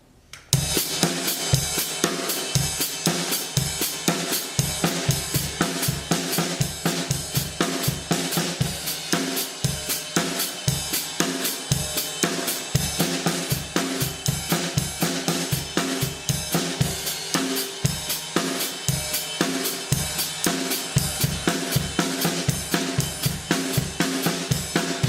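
Drum kit playing a paradiddle-based independence exercise at a faster tempo, steady rapid sticking with regular accents throughout, loud and close with no talking.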